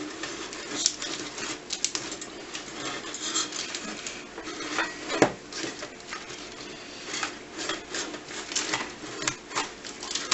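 Plastic apron from a Kodak Tank Developer model B being handled and unrolled, giving soft rubbing, crinkling and light tapping sounds that come in irregular bursts close by, with no talking.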